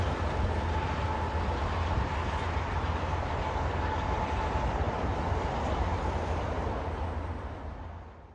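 A Union Pacific freight train with two distributed power locomotives on the rear, on the Condon Branch near Arlington, gives a loud, steady, close rumble with a faint tonal whine that holds throughout, then eases off at the very end.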